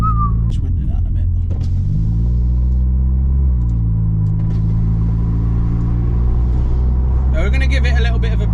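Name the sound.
400 BHP DSG Audi engine revving while accelerating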